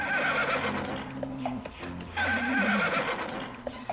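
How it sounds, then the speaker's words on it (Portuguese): A horse in a barn gives two loud, close whinnies with a brief pause between them and a few hoof clops near the end. "deu um relincho."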